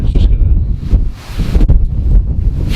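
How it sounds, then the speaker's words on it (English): Strong wind buffets a handheld camera microphone outdoors at a priory ruin, a loud continuous rumbling roar with gusty surges and no voices. "It's just the wind is literally blowing the camera in my hand."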